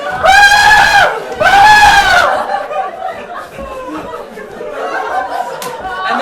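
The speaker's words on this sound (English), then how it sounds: "I just heard screaming." A theatre crowd at an improvised comedy show lets out two loud, drawn-out screams in a row, then breaks into scattered laughter and chatter that carries on more quietly.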